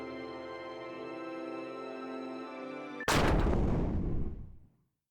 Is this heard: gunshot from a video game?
yes